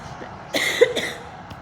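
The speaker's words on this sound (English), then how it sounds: "That's the first cough. Hopefully I'm not developing a cough now." One short, rough cough breaks out close by, a couple of quick bursts in a quiet room.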